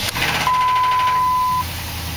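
A Dodge Ram 1500 truck engine idles roughly just after being restarted, a steady low rumble under a single sustained electronic tone, likely a dashboard chime, heard close up.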